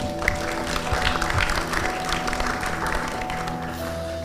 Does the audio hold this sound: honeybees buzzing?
no